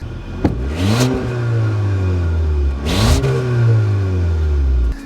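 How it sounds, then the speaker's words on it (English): A 2018 Audi A5 Sportback's turbocharged four-cylinder with a seven-speed dual-clutch gearbox pulls hard under acceleration, engine tone climbing steadily then dropping at two quick upshifts, heard loud and close from inside the car. "This is a turbocharged 4-cylinder that puts out 252 horsepower and 273 pound-foot of torque."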